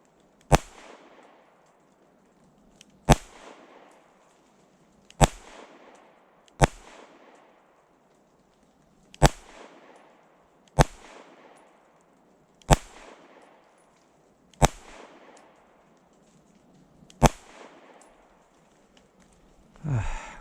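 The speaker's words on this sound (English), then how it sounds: "Gun shoots soft." Fusion Firearms XF Pro pistol firing a magazine of rounds on an outdoor range: nine sharp, loud single shots spaced one to three seconds apart, each cracking and trailing off in a short echo, with no talking.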